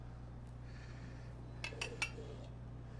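A metal wok spatula taps against a wok in a home kitchen with a few quick, faint clinks in a row, over a steady low hum of a range hood.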